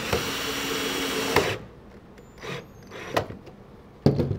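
Screw being driven into an Adirondack chair: a power driver whirs steadily for about a second and a half, then stops, followed by scattered clicks and knocks and a brief final burst of driving.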